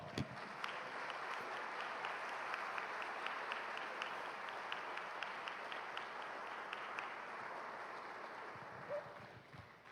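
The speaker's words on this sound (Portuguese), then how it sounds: "Aplauda o Senhor." A church congregation applauding during a service, a soft, distant wash of many hands clapping with a few sharper individual claps standing out, thinning near the end.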